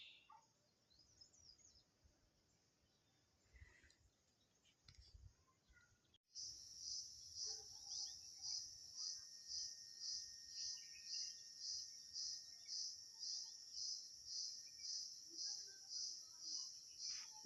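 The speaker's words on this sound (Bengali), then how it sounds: "ঝিঝি পোকা ডাকছে" Crickets chirp at night in a quiet, peaceful spot, a steady pulsing trill that starts abruptly partway through and continues loud and close over faint background noise.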